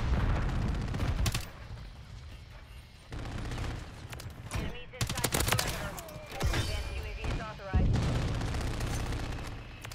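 Heavy rapid automatic fire from a VTOL killstreak aircraft in Call of Duty Modern Warfare III, dense overlapping bursts and booms rolling through the whole stretch, loud and continuous with brief lulls, mixed with speech.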